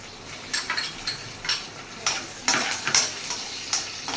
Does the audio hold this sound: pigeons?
no